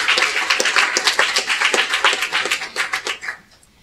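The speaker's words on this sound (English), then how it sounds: "Laura a round of applause as she comes to the microphone" Audience claps for a speaker walking up to the microphone at a community event, brisk, fairly close applause with crisp individual claps that thins out and stops near the end.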